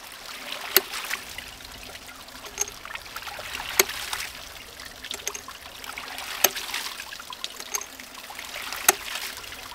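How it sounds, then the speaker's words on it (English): Hydraulic ram pump cycling its waste valve as water flows through it, sharp metallic clacks every two to three seconds over a soft continuous trickle, fairly close. "Now we should be ready to start cycling the waste valve."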